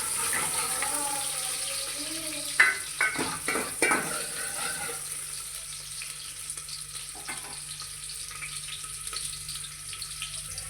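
Sliced onions fry in about three tablespoons of oil in a pot, a steady hiss broken by a cluster of clattering stirs and scrapes early on, then a quieter continuous sizzle.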